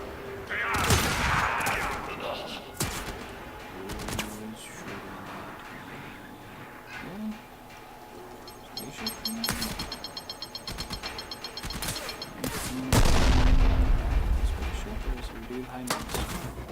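Gunshots and rapid bursts of fire in the sci-fi shooter game Warframe, loud close reports and a fast repeating volley near the end, layered over game effects and intermittent talking.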